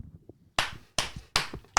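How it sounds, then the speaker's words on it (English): Four slow, evenly spaced sharp claps ring out, near and fairly loud, each with a short decay, sounding like a single person clapping for a round of applause rather than a full crowd. "Round of applause."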